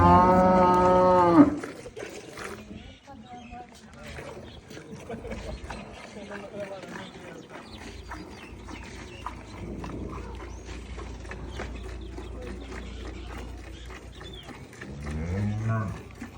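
A cow lets out a loud, close moo at the start and another, lower moo near the end, with quieter farmyard rustling and creaking between the calls.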